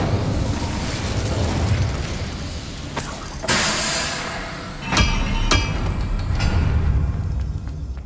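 Incendio fire spell blasts in the Hogwarts Legacy video game: sharp bursting whooshes with a roaring flame tail, several cracking hits in quick succession over steady, loud combat background noise.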